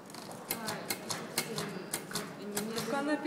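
A typewriter clacks away in quick, uneven keystrokes, each strike sharp and close, with a person talking over the typing.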